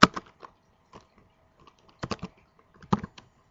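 Keystrokes on a computer keyboard entering a database query, arriving in short bursts of a few quick clicks separated by pauses, close and clear with no talking.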